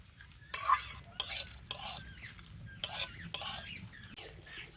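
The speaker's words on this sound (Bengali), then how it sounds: "তো চালটা হালকা করে ভেজে নিয়েছি" Raw rice being lightly fried and stirred in a pan for a sweet rice offering, with bursts of scraping spoon strokes over a soft, steady sizzle, close by and fairly quiet.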